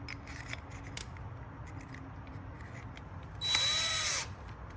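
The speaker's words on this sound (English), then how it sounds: "I'm going to use a 3/4 drill bit and using a impactor." An impact driver with a 3/4 drill bit whirs in a brief, loud burst near the end after quiet handling and light clicks, drilling for rear recovery hooks on a Hummer EV.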